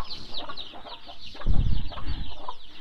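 Young chickens in a poultry shed with a metal sheet roof, with repeated high cheeping and clucking calls close by and a low rumbling thump partway through.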